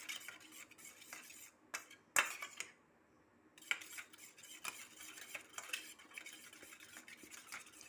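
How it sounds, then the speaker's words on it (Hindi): A spoon mixes powdered sugar and lemon juice into a dip in a small bowl, producing faint irregular clinks and soft scraping, with one sharper tap and a brief pause midway; no voices. "अच्छे से मिक्स कर लेंगे।"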